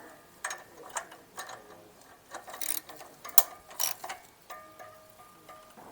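Bolts on the exhaust of a 2008 Smart Fortwo 451 being given final tightening with a ratchet, a run of short metallic clicks and ratchet bursts close by, with no talking.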